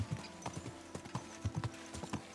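Horse hooves galloping along a path in the video game Kingdom Come 2, a quick run of loud, close clip-clop beats in an irregular rhythm with no talk over them.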